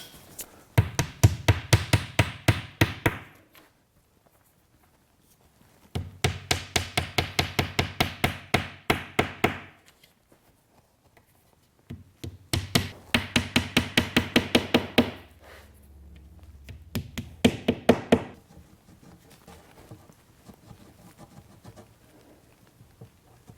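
Hammer tapping wooden dominoes into mortises, several bursts of rapid sharp taps close by separated by pauses, with lighter scattered knocks at the end.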